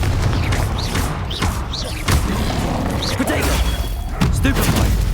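Explosive fire spell blasts in the Hogwarts Legacy video game, a dense run of booming crashes and thuds over continuous loud combat noise, with chanting voices and game effects mixed in.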